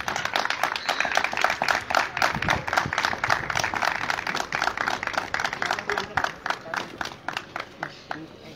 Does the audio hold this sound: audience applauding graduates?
yes